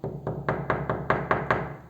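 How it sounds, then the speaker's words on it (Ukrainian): Knocking on a door: about eight rapid, evenly spaced raps, fairly close and crisp, over a low steady background hum. "Та стукає до нас в двері."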